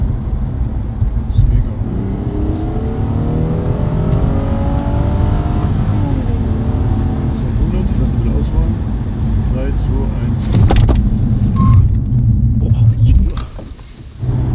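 A car engine drones and rises in pitch as it accelerates, loud and close, then eases off near the end.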